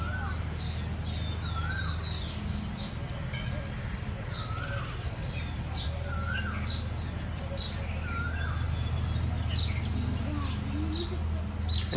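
Many birds chirp and call all around at an outdoor ashram site in Vrindavan, with a koel among them, giving repeated rising whistled notes over a constant low hum and background noise.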